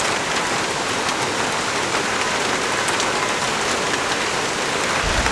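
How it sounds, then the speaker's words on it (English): Steady, heavy rain hissing down on a bike shelter nearby, a dense unbroken patter with no voices. "Rain kicked in again, in a bike shelter, waited out here a little bit longer."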